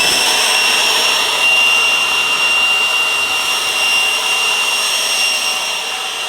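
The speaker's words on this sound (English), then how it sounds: "so I'll take my leaf blower in here" Leaf blower roaring steadily at close range while pushed along the flank of a brush fire, a loud continuous high-pitched whine over broadband rushing air that holds nearly constant throughout.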